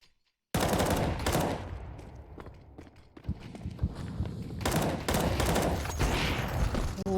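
Pistol fire during a Counter-Strike match on Anubis: after a brief silence, sharp close shots erupt in quick clusters, then taper into scattered pops and footsteps before another dense volley.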